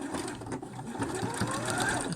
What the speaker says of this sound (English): I'm just going to stitch in the ditch again